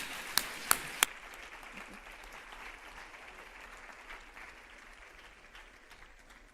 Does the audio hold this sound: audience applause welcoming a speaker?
yes